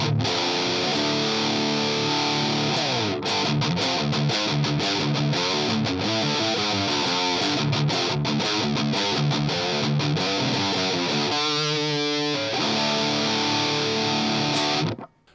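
Electric guitar through a Moore Blade distortion pedal into an Orange Dark Terror amp, a fizzy, thin, high-heavy buzz over continuous riffing and chords, loud and close with no talking, stopping abruptly at the end.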